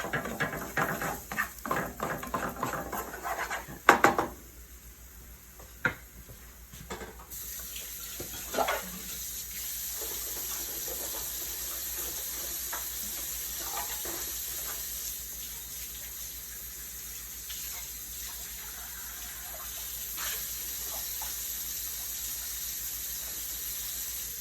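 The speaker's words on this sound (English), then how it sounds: "I'm over here washing out my little go-to pasta bowl" A pasta bowl is rinsed out at a kitchen sink: a few clattering knocks, then a tap runs in a steady, close gush that fills the rest of the clip.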